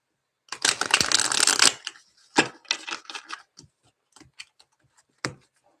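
A deck of tarot cards being shuffled by hand, a dense riffling burst followed by several shorter shuffles and soft card taps, close and clear with no talk.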